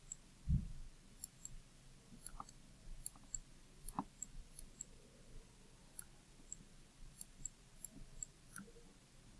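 A computer mouse clicking while someone writes with it, giving scattered faint, sharp clicks in an uneven rhythm over quiet room hiss, with one louder thump near the start.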